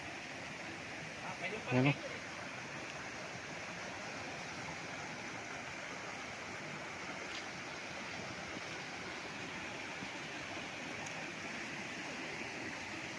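A creek flows beside a farm lot in Majayjay, Laguna, giving a steady, faint rushing wash of water heard from a distance, with a brief spoken word near the start.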